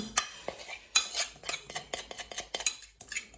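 A spoon scoops homemade Toblerone mixture from a bowl, making a close run of quick metallic scrapes and clinks in an uneven rhythm.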